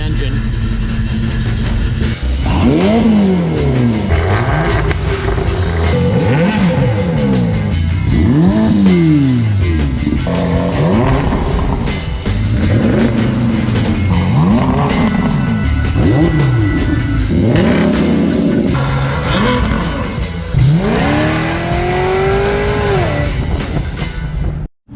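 The engine of a 1969 GMC truck, freshly started after storage and still burning off WD-40, runs loud and close, revving up and down repeatedly with rising and falling pitch while someone talks over it.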